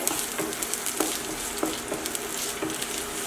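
Chopped onion sautés in coconut oil in a pan for egg thoran, giving a steady close sizzle broken by light, regular scrapes of a stirring spoon.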